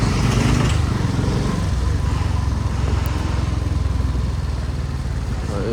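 A motorcycle rides over a badly broken, bumpy road, its engine droning loud and steady throughout with rattling, uneven low rumble and no break.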